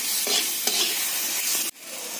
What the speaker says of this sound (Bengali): মশলা এটা একটু ভাজা ভাজা হয়ে গেলে জল দিয়ে দেবো